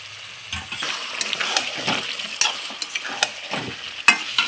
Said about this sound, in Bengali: তরকারির মধ্যে পনির দিয়ে আমি এক মিনিটের মতন পনিরের সাথে মশলাটা কষিয়ে নিব